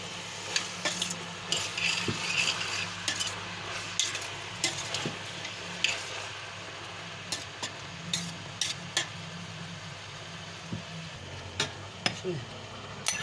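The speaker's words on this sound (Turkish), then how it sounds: "Ondan sonra kabağı atıyoruz. 5 dakikada bu böyle kavrulacak." Zucchini with onions and peppers sautéing in a pan for a stuffed-eggplant and squash stir-fry, a steady close sizzle broken by frequent scraping stirs and light clicks of a utensil against the pan.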